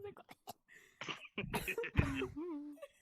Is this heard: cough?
yes